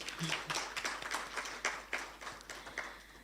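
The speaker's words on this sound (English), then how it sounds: "Can we give Dr. Etienne a round of applause?" Faint, sparse clapping from an audience at a university hackathon prize-giving ceremony, a thin scattering of hand claps lasting a few seconds.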